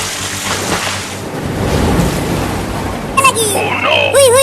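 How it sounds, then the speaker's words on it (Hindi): Heavy rain pours in a steady, dense wash of noise throughout, with a voice briefly breaking in and some squeaky electronic tones near the end. "अभी भी बारिश बहुत"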